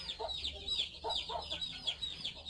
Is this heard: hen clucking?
yes